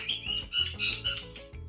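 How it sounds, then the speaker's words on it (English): Several birds on a garden deck chirp in quick, bright tweets repeating every fraction of a second, fairly close, picked up by a Ring Stick Up security camera, with light background noise and no talking. "You can see the birds walking on my decking and hear them chirping."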